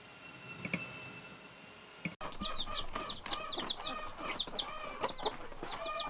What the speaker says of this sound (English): we have our little chicks that Foggy has hatched